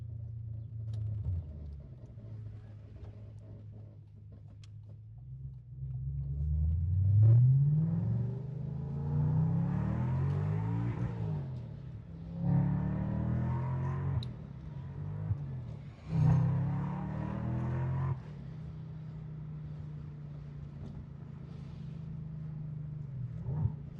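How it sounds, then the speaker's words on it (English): A black 2006 Audi S4 Avant revs its engine while driving, with a low rumble building into several loud, rising pulls separated by gear-change dips, then settling back to a steady cruising drone. "why this black Audi is making this incredible, incredible sound"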